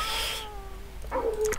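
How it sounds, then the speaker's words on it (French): A cat character in The Sims 2 gives a short meow, followed a moment later by a second brief, higher meow against quiet game background. "je vais demander aussi à Fanny de bien vouloir arrêter de miauler"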